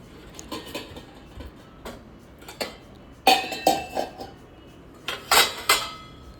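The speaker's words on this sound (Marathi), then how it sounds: "आणि आता पटपट भांडी लावून मी पुढची कामं करत आहे." Dishes and utensils are put away in a home kitchen: a string of clinks and clatters of metal and crockery, sparse at first, then louder clusters of knocks near the end.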